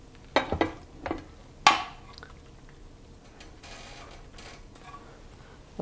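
Cooked mushroom pasta gets scraped and spooned into a baking dish, a few sharp utensil clinks and knocks close up, followed by softer shuffling in a quiet kitchen.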